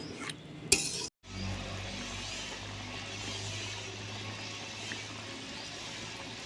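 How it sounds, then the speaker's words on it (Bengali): Chicken meat is slowly stir-fried in a pan, a low steady sizzle after a sharp utensil clatter and brief pause at the start, with one faint clink later. "আস্তে আস্তে মাংসটা এই সময় কষতে হবে"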